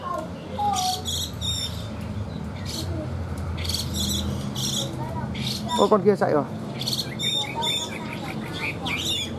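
Hwamei fighting birds, offered for sale, sing and squawk in sharp repeated chirps and trills, loud and close, with someone talking over them and background insect-like buzzing.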